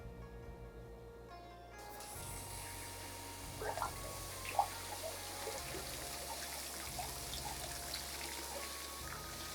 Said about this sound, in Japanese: 楓のこのような持ち込みの木は一度根周りを洗ってあげることが大切です